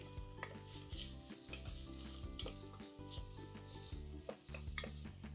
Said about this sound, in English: add 2 tablespoons of finely chopped garlic and saute this also for a minute